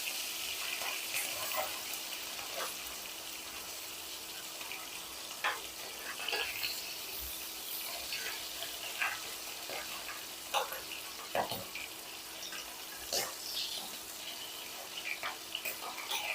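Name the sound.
fish frying in a pan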